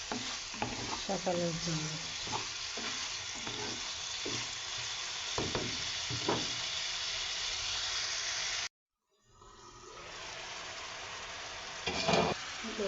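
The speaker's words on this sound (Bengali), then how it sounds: "এখন আলুর দম বানাচ্ছি" Potatoes frying and being stirred in a pan for aloo dum, a steady sizzle with scraping spoon strokes, a brief dropout, then the sizzle resumes; a voice speaks briefly near the end.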